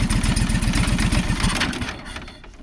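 Small engine on an auction-bought machine idles unevenly, a loud, close, pulsing chug that sags and fades toward the end as if about to stall.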